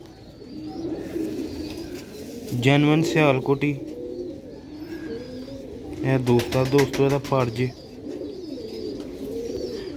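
Sialkoti silver rooftop pigeons coo in two repeated bursts of throaty, pulsing calls, with someone talking steadily underneath throughout.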